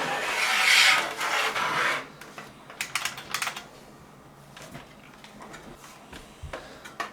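Typing on a loud, clicky keyboard plugged into a computer: a brief rush of noise first, then scattered sharp key clicks at an uneven pace, close up with no talking.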